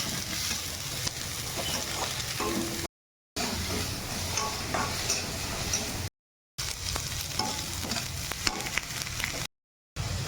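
Chopped ginger, onion and capsicum fry in a pan with a loud, continuous sizzle and occasional stirring scrapes, broken by brief silent gaps.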